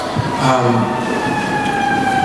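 Sirens wail steadily in the distance during an outdoor community gathering, a rising and falling tone over a murmur of background noise and faint voices.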